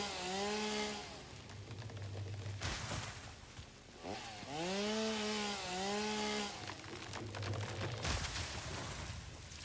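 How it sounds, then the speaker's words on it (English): A chainsaw in the factory-building game Satisfactory revs loudly and continuously, its whining engine pitch rising and falling through several bursts with short dips between them. "I do have the chainsaw on me, don't I?"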